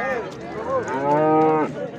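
A cow moos loudly and close by at a livestock market in Vobkent, Bukhara, one long drawn-out low call that rises and then falls away.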